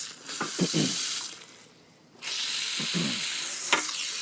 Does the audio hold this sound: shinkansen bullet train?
no